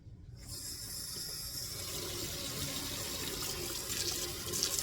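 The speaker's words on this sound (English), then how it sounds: "Let's start with a little bit of warm water." Warm water pours steadily into a container, a close, continuous splashing stream that starts abruptly and keeps running.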